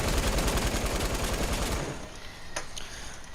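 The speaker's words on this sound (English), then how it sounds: "So I started just shooting at him like this." Rapid gunfire in a video game, aimed at an opponent: a dense, loud rattle of shots for about two seconds, then it drops away to a quieter background with a couple of isolated cracks.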